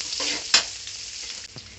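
Chopped onions sizzle in hot oil with tempering seeds for a vegetable-style eggplant rice dish, a spoon stirring through the pan with one sharp scrape midway over a steady close frying hiss.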